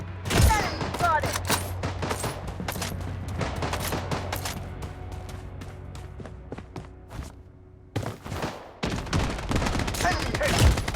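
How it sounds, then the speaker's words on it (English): Rapid bursts of gunfire from the mobile shooter game Blood Strike during a match, sharp repeated shots crackling close and loud with brief gaps, mixed with footsteps and other game sounds. "Taking fire!"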